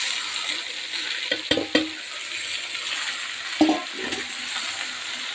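Cooked beans and carrots go into a pan for a simple palya, with a few close clinks and scrapes of a spoon against the pan over a steady, soft frying sizzle.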